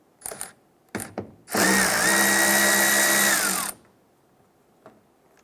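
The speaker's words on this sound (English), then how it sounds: "Using our 10mm socket, we're going to go ahead, loosen and remove this bolt right here." Power tool with a 10mm socket spinning out a taillight bolt on a 2012-2017 Toyota Camry, a loud, steady two-second whir, preceded by a few short clicks and clatters.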